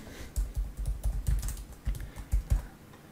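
Keystrokes on a computer keyboard while entering a duplicate tag in form software, a rapid irregular run of close, crisp clicks with no voices.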